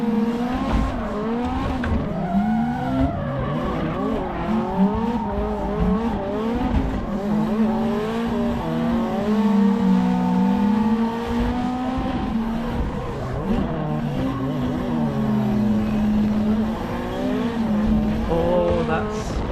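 A car drifts around the Ebisu circuit in Assetto Corsa, its engine revving and wavering at high pitch, with sustained tire squeal rising and falling for a long continuous stretch, loud and steady.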